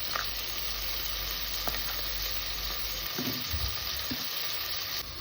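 Rice for Telangana-style bagara rice sizzles in a hot frying pan while being stirred, a steady close crackle with scraping and thumps of the utensil near the end.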